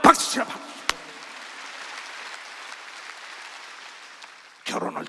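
A church congregation claps at a Wednesday worship service, a brief burst of applause at the start, quiet murmuring between, then another short round of clapping at the end.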